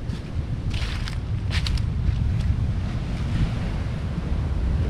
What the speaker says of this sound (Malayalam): അപ്പോൾ അടുത്ത തിര വരട്ടെ, നമുക്ക് കാണിച്ചു തരാം.